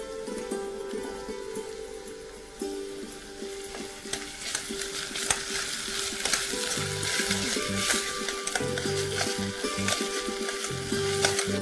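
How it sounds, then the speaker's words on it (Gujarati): Chopped onions sautéing in a pan while cooking Gujarati-style dal, a steady close sizzle with frequent scraping stirs of a spoon against the pan throughout, no talking. "કાંદાને બરાબર સાંતળી લઈએ."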